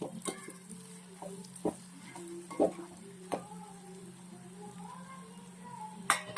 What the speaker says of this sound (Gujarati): હવે એમાં આપણે જે મસાલો બનાવ્યો હતો એ એડ કરી દઈશું હવે એક સારી રીતે હલાવી લેશું